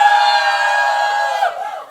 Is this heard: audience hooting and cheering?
yes